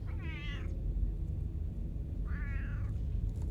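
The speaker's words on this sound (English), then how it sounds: "The cat is sitting on the mouse right now." A cat meows twice, two clear separate meows close by against a steady low background hum.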